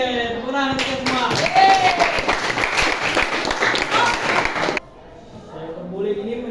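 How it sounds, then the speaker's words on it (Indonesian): A classroom of students applauds together, with dense, sustained clapping that starts abruptly, fills several seconds and then cuts off, as a teacher's voice speaks briefly before and after. "tepuk tangan untuk kita semua"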